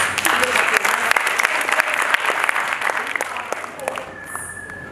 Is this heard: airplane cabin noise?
no